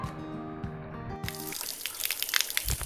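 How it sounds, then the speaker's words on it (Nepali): Water splashes and gushes into a container on a rainy village farm, an uneven, close, sloshing pour that begins after a short stretch of background hum, with no talking. "यो चाहिँ मैले घाँस काट्न भनेर चाहिँ पानी भर्दैछु"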